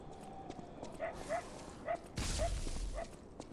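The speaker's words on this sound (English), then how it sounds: "I hear a doggy right here." Dog barking in the Lies of P video game, a handful of short, fairly faint yips spaced irregularly across a few seconds over quiet game ambience, with a louder burst of game noise partway through.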